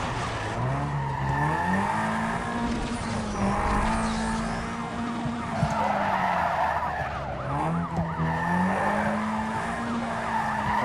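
A car in Need for Speed: Most Wanted skids through a 180-degree turn, with loud, wavering tire squeal over a revving engine. It swoops up and down for several seconds, and a siren wails faintly behind it.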